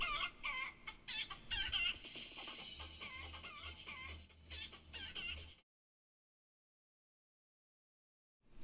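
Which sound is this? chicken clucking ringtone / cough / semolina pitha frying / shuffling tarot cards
chicken clucking ringtone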